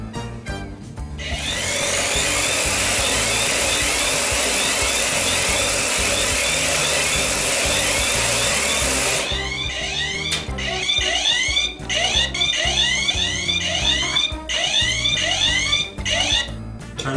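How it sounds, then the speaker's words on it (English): A propeller alarm clock ringing loudly with a continuous harsh buzzing whir that stops abruptly, followed by repeated clattering and rattling as the device is handled nearby. "That's the only way you can get this alarm to stop going."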